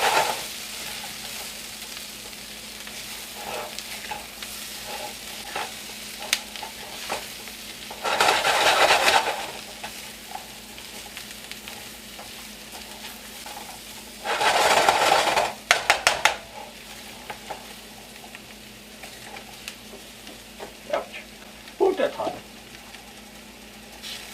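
Fried food stirred back into a hot oiled pan for Cornish game hen hash, with steady sizzling broken by two louder bursts of scraping and stirring, close up, while a person talks over it.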